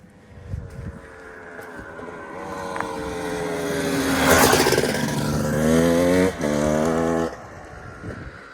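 A big sport motorcycle passes by on a road, its engine note climbing as it draws near and rising through the gears as it goes by loudly, then fading into the distance, with no talk over it.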